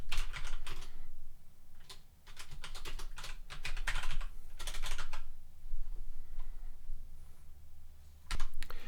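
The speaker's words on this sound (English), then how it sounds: "I'm going to type in my credit card details." Fingers type on a computer keyboard in quick bursts of clicking keystrokes with short pauses between runs, close and clear, no talking.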